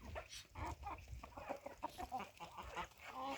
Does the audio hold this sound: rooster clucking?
yes